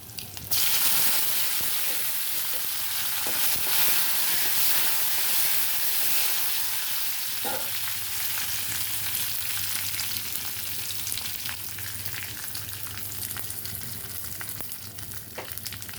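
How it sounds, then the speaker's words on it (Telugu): Curry leaves crackle and sizzle loudly in hot oil tempered with fenugreek, cumin and mustard seeds, a dense continuous frying hiss close up that eases slightly toward the end, no talking. "దీంట్లో కొంచెం కరివేపాకు కూడా వేద్దాం."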